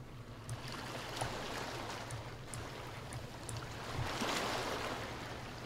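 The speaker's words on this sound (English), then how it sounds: "you can possibly just about hear some waterfall noises." Faint, steady rush of video game waterfall sounds with a soft splashing texture, continuous and distant-sounding throughout.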